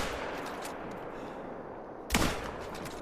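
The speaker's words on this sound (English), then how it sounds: "I think I'm going to use the 270 on these guys here." A single sharp rifle shot from a .270 rings out in a foggy hunting game scene, one loud crack with a short tail over quiet ambient wind.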